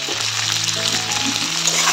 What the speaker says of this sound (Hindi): और ये ड्राई पोर्क है, इसको ज़्यादा फ्राई करने से ऑयल इसका गल जाएगा, तो थोड़ा सा ही फ्राई करेंगे.